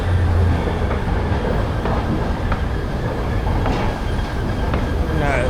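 A Miami Metrorail train rumbles along the tracks with steady, loud rolling noise and faint rhythmic clacks of the wheels.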